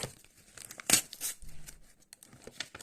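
Card pack for the Oldu Bil card game ripped open by hand, one sharp tearing burst followed by shorter crinkles of foil wrapper, close and alone with no talk.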